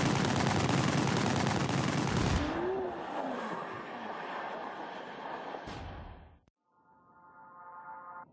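Loud, rapid pistol gunfire bursts in The Grand Tour Game racing video game, a dense volley that cuts off into a fading rumble and engine-like drone, followed after a brief drop by a quieter tonal hum.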